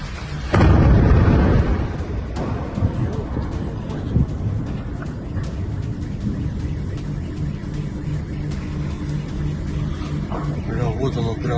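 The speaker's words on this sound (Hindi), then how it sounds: "दूर तक सुनाई गई धमाकों की आवाज।" A heavy blast in a Russian-occupied part of the Donetsk area during the war bursts loud near the start, then gives way to a sustained rumbling roar with scattered thuds and a faint voice in the background.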